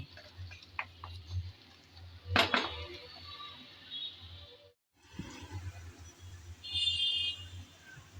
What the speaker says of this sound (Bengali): আমিও একটু নেড়েচেড়ে যাতে আর একটু কালার আসে সেজন্য মিশিয়ে নিচ্ছি।